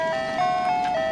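An ice cream truck plays its chiming jingle at dusk as the sun sets, a steady melodic tune of bright, sustained tones heard alone with no talking.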